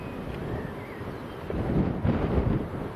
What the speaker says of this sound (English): Quite breezy this afternoon as well. You can probably hear it over the mic.